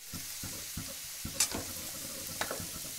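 Vegetables stir-fried with spring onion for veg chowmein, a soft continuous sizzle broken by regular scraping strokes of a spatula and a couple of brighter clinks.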